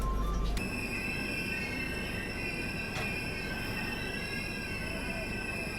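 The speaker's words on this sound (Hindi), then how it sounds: "हमारी ट्रेन पहुँचने वाली है अरसीकेरे जंक्शन रेलवे स्टेशन" Ajmer–Mysuru express rolling into Arsikere Junction, a steady rumble with high-pitched wheel squeal sustained throughout and a brief clank near the start.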